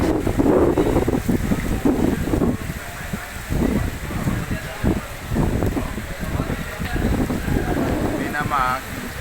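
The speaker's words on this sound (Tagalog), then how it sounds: "Kay lakas na ng hangin." Strong wind roars and buffets against the microphone without letup, with a voice speaking faintly beneath the gusting noise.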